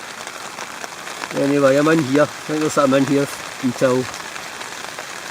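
Rain falls on a Hilleberg Akto tent during wild camping in Scotland, a steady close patter on the fabric running under a voice speaking from inside.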